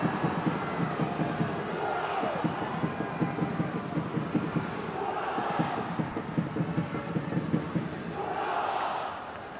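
Home football crowd at a Singapore versus Myanmar match roaring and jeering at a referee's call, a loud, sustained mass of voices in rising and falling waves with rhythmic chanting pulses underneath.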